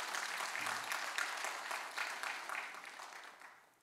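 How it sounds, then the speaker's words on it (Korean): Congregation applauding during a Christmas Day worship service in a church in Gunsan, a sustained ripple of many hands clapping at moderate distance that slowly fades toward the end. "박수 한번 해줘요."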